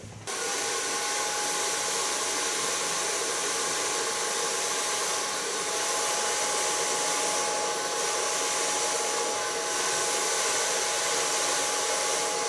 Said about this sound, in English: starting with drying on the longer part, of course.